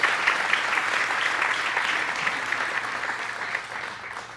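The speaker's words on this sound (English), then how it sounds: "Give them a round of applause." An audience claps steadily in a dense, sustained round of applause at a positivity talk, even and fairly loud throughout, tapering off slightly toward the end with no voices over it.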